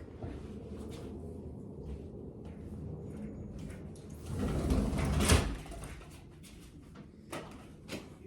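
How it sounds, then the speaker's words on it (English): A door is closed indoors: one brief, muffled thud with a short rumble partway through, over quiet room tone, with no one talking. "I'm going to close my door."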